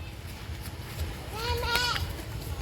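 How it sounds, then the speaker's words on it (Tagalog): A single goat bleat at feeding time in the Philippine countryside rises briefly over a steady outdoor background hum, moderately close, with faint voices around it. "magpapakain sila ng kambing"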